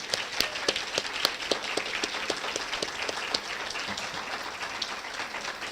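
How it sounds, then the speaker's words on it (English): An audience claps warmly for students at a community website launch event, a steady, dense round of applause lasting several seconds with scattered sharper individual claps standing out near the front. "let's everyone give the students a big round of applause"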